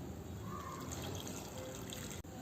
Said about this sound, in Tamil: கொஞ்சமாக தண்ணி ஆட் பண்ணிக்கலாம்.